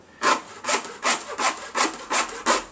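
A saw blade grates through rubber in six steady back-and-forth strokes, each a rough, raspy scrape, close up with no talking.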